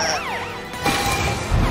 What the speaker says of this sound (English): Use your sirens, Super Truck!